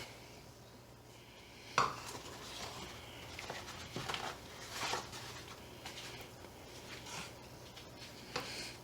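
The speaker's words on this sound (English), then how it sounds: "So we are just going to crack 4 eggs." Four eggs cracked into a bowl in a home kitchen, a sharp tap near the start followed by several softer clinks and shell rustles over quiet room noise.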